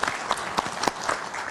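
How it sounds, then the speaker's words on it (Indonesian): Audience applause at a 2024 Indonesian presidential and vice-presidential candidates' vision debate, a scattered patter of claps with a few sharper individual slaps standing out, moderately loud and close. "Kita berikan tepuk tangan dulu."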